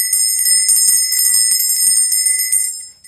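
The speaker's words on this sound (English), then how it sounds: "There's the mammoth on the bell." A small metal bell from India, decorated with an elephant figure, ringing steadily with a bright high-pitched shimmering tone, close and loud, then fading out.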